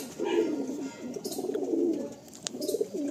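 Madrasi pigeons coo in a loft, a few soft, close rolling coos in quick succession with light rustling between them.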